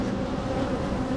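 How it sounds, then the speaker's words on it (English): A dense, steady drone of many bees buzzing together, loud and continuous, filling the air with no break and no voices. "there is a lot of bees"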